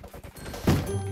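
Gunfire in a video game: a rapid run of sharp shots in the first half, then a louder burst with a ringing tail, all close and fairly loud.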